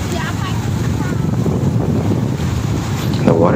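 Strong wind buffets the microphone in a constant roar on a rough south coast beach, with waves rumbling underneath throughout and a sharper surge near the end.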